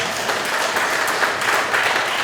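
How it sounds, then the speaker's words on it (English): Dense, steady applause from an audience at a book launch for "Being You" by Maggie Eyre, a continuous wash of many hands clapping at even loudness throughout. "please give her a clap"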